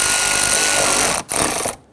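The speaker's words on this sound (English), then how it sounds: "Let's go ahead and snug down our hose clamps." Hose clamps being snugged down on the thermostat housing hoses of a 2011-2023 Dodge Charger 3.6L V6, a steady, loud ratcheting whir that briefly pauses, resumes, then cuts off near the end.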